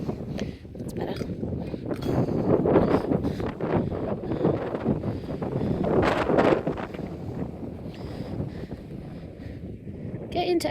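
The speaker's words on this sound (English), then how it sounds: "it is so windy" Strong wind buffets the microphone on an open hillside at Sycamore Gap and Steel Rigg, a loud, constant low rumble that swells and gusts throughout with no letup.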